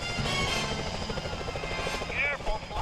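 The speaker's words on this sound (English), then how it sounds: "Those security choppers are bad" Security helicopters in the video game Sly Cooper: Thieves in Time, a loud steady rotor thrum under game music and effects, with a brief sweeping tone near the end.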